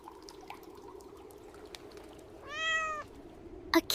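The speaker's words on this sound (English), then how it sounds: "A kitten. Not a monster." Small frightened kitten in a basement giving one short clear meow midway, faint and alone in a quiet room, followed by a couple of soft bumps.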